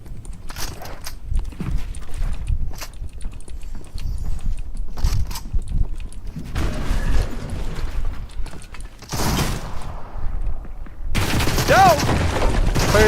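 Assault-rifle gunfire in Fortnite's Simpsons-themed season, with bursts of shots and sharp broadband cracks among clattering game effects and mechanical clicks. The shots grow denser and louder toward the end.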